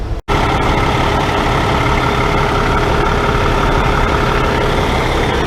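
A Peterbilt 386 truck engine rumbles steadily at close range as the rig rolls into a truck wash, a loud continuous low drone after a brief cut at the start.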